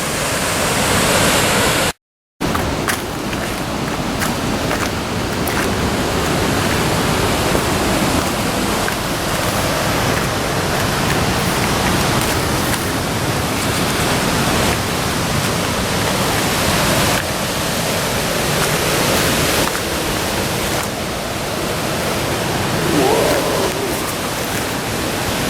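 Yosemite Falls roars as a loud, steady broadband rush of falling water, close and continuous apart from a brief dropout near the start.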